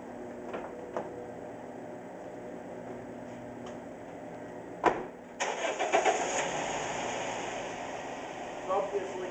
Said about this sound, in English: I'm going to have it in fifth gear, and you can hear that knocking